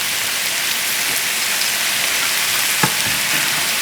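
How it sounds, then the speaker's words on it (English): Green and mixed colored peppers sizzle with mushrooms in a hot pan for a sausage and leek salad, a steady, loud, hissing fry throughout with one brief utensil knock partway through; no one speaks. "So now I'm going to add the rest of the vegetable, the green pepper and all the color peppers,"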